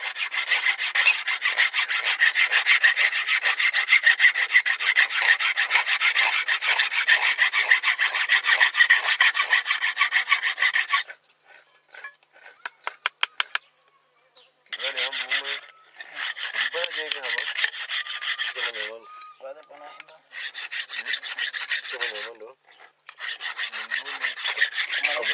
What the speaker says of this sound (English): the filing and polishing phase in the manufacture of the spear tips began